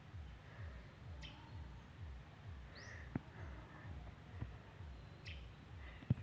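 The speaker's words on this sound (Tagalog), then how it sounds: "Maano lang maririnig mo yung mga huni ng ibon." A few faint, brief bird chirps sound at intervals over a steady low rumbling background, distant and sparse.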